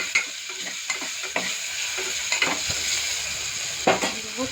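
Potatoes with their skins on frying in a pan for aloo pulao, a steady loud sizzle broken by repeated scraping stirs and sharp knocks of a spoon against the pan.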